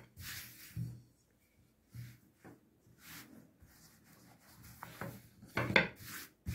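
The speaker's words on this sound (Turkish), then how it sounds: "hamurumuzu oklavayla çevire çevire açıyoruz" Börek dough being rolled out and turned with a long thin rolling pin on a wooden surface, soft intermittent rubbing and light knocks with quiet gaps, close and faint.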